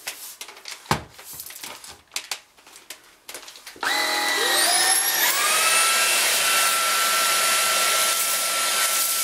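A Cecotec Rockstar 500 cordless vacuum cleaner fitted with a foam brush starts after several close clicks and knocks, its motor whining up in pitch, then holding a loud, steady high roar to the end.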